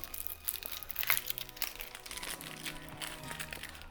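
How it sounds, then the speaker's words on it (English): Papery skin being peeled off a white onion by hand, close crinkling and crackling in uneven bursts, quiet and with no talking. "I'm just gonna take off the top and the bottom, the first layer to get off the skin"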